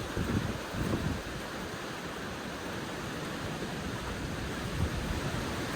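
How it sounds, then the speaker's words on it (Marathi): Strong wind blowing outdoors at a village fishing spot, a continuous loud roar buffeting the microphone with no break or voices. "वारं खूप आहे, बघा बघू शकता किती वारं आहे"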